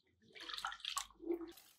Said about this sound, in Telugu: ముందు ఇందులో బియ్యం పోసేసి కడిగేద్దు